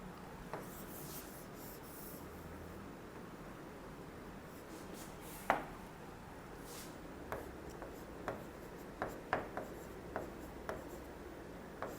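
A teacher writing on a board in a classroom: soft scratchy strokes and sharper taps, sparse at first, then a denser rhythmic run of marks toward the end, faint and close over a quiet background with no talk.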